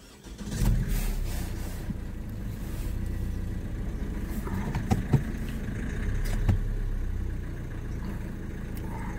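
A Chevrolet Cruze 1.7 diesel engine cranks and catches, then settles into a steady, close mid-pitched running rumble with a couple of brief revs.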